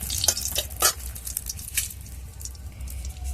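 A bay leaf drops into hot oil beside lightly fried dried red chillies, giving a steady close sizzle with a few bright crackles and spatters early on.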